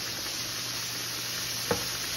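Chicken and lettuce leaves sizzle steadily in butter on a stovetop, a continuous close frying hiss with one brief clink partway through.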